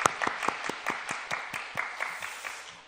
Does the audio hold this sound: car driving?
no